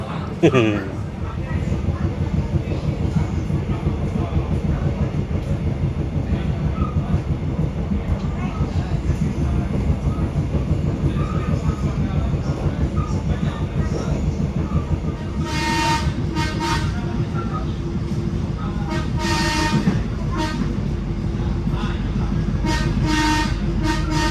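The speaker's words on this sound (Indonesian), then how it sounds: "Ini tuh keretanya nggak kenceng-kenceng amat loh." The Minangkabau passenger train in West Sumatra rolls steadily along the rails at modest speed with a continuous low rumble and rhythmic clatter, with bursts of higher noise later and voices talking over it.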